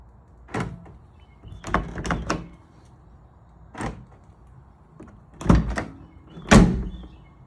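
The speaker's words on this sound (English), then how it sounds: "automatic door locks" Several sharp mechanical clunks and thunks in irregular bursts from power door locks on Jeep Wrangler JK front half doors, close and fairly loud with quiet gaps between.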